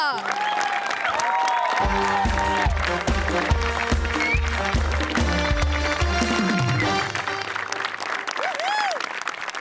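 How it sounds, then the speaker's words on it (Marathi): An audience applauds at a televised comedy awards show while loud stage music with a thumping rhythmic beat plays over it, and the clapping stays partly masked beneath the music. "पंढरीनाथ कांबळे म्हणजेच पॅडी कांबळे यांना जोरदार टाळ्या"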